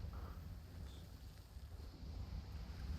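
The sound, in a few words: wind blowing in Sea of Thieves video game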